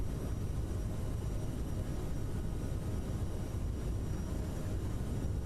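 Aerosoft CRJ regional jet rolling down the runway for takeoff in Microsoft Flight Simulator, departing Sao Paulo: a steady, dense engine roar with rumble throughout, constant and loud with no voices.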